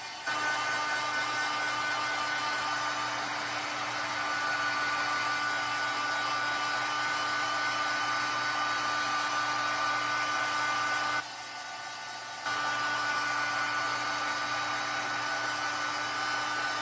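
A hair dryer blows steadily and loudly for the whole stretch, a constant close whir that dips briefly once before resuming, with no talk over it.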